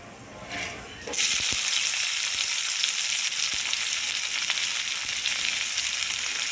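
Chopped onions hit hot oil with fenugreek seeds, bursting into a loud, close sizzle after a quieter first second, then a steady crackling fry with occasional stirring clicks.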